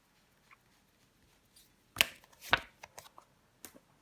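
A tarot card is flipped and laid down during a reading: a few crisp paper snaps and slaps close to the microphone, two sharp ones standing out over soft shuffling rustles in an otherwise quiet room.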